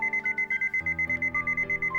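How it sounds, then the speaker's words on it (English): Alarm clock in a visual novel video game ringing with a rapid, steady electronic beeping pulse, loud and alone, repeating evenly over about two seconds. "I wake up a few seconds before my alarm and stop it as soon as it rings."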